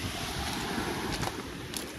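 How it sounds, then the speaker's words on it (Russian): Sea surf washing against the shore below a cliff at Divnomorskoye on a rough day, a continuous broad wash of waves mixed with wind buffeting the microphone, steady and fairly close. "Ну и, собственно, само морюшко."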